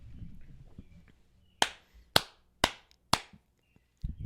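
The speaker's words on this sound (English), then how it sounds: "Clappity clap clap clap." Four sharp, evenly spaced hand claps ring out alone in a quiet room, each a crisp slap about half a second apart, with soft talking and movement before them and another clap starting at the end.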